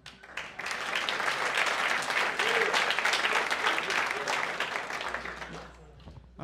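Audience at Dizzy's jazz club in New York clapping hard after a Joey DeFrancesco Trio number, the dense applause swelling quickly, holding for several seconds and fading, with a voice heard over it near the end.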